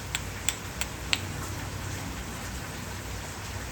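Steady outdoor rain hisses evenly across the whole stretch, with a few sharp louder drop ticks near the start.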